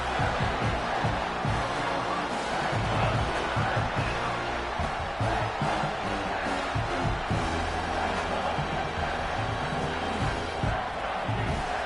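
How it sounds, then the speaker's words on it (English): Stadium crowd roars continuously during a College Football 26 Michigan vs Ohio State game as the defense holds in the red zone, a dense, loud wash of cheering with no commentary over it. "And the crowd coming to life here, trying to help this defense down in the red zone."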